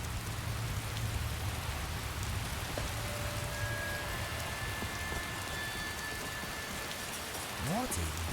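Heavy rain pours down in a dense, steady hiss, with a low rumble early on and a few faint tones near the end, in the modded video game Skyrim.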